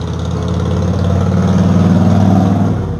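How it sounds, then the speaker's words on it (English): A motorcycle engine runs loud and close in a park, a steady throbbing rumble whose revs lift slightly midway before settling. "There was a motorcycle, cause we're at the park."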